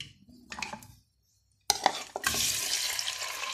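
Boneless chicken pieces hitting hot oil in a handi, a loud burst of frying and sizzling that starts abruptly after a short silence, with spoon-on-pot scraping and stirring clatter before and during, close up.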